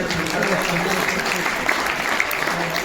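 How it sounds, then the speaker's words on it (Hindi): Audience at a Hindi comic poetry gathering, a kavi sammelan at the Taj Hotel in Jodhpur, breaks into sustained applause, a dense steady clapping crowd with a voice talking over it. "एक बार तालियां बजाइए"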